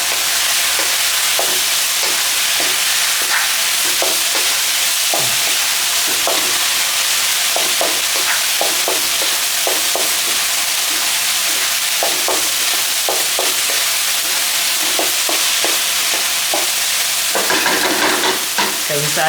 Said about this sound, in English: just stir fry this